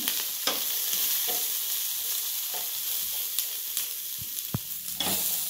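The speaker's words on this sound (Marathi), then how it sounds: "आता चांगली अशी मका भाजून घेऊया आपण।" Sweet corn roasts in a pan, giving a continuous soft sizzle broken by repeated scraping stirs and sharp clicks and knocks, close and fairly quiet.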